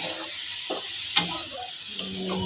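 Spoon stirring spices such as turmeric and chili powder into dal in a pan, quiet scraping with a soft sizzle underneath and a couple of light clicks against the pan.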